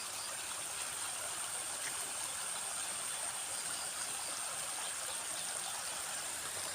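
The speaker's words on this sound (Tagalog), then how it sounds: "umaagas na, umaapaw na yung tubig sa kanyang bunganga" Water overflowing from the mouth of a well, a steady broadband rush and trickle like a stream, continuous and even throughout with no voices.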